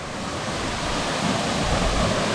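Gregorčič waterfall (Gregorčičev slap) in Slovenia, a tall cascade pouring with a steady, loud broadband roar of rushing water that fills the whole stretch without pause.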